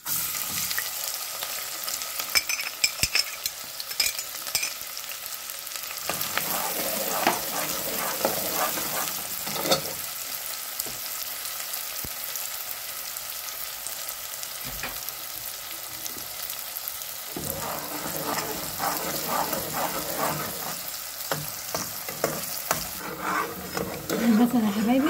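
Onions sizzle and crackle loudly in a hot pan, with stirring scrapes and clatter recurring throughout, close up and continuous, and a voice speaking briefly over the frying.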